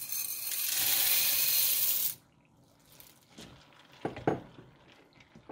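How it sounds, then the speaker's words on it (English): Dry macaroni noodles pour into a pot of boiling milk on a stovetop turned to medium heat, a loud steady rushing hiss for about two seconds that cuts off abruptly, followed by quieter stirring clatter and a few sharp knocks. "We get to add our noodles."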